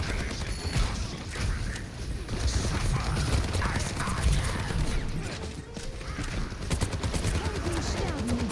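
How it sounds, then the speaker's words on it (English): Rapid gunfire from Soldier 76 in the Overwatch video game on the Shambali Monastery map, a dense, continuous rattle of shots and mechanical clatter that runs steadily through the whole stretch without pause. "I wouldn't be shooting the Ramatra"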